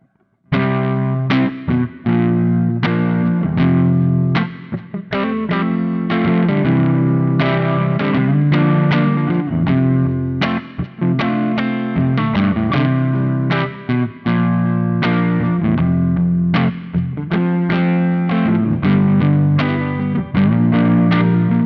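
An electric guitar is played through a FLAMMA FX100 multi-effects pedal on its PV clean preset, with steady picked chords and notes ringing continuously, loud and alone, with no talking.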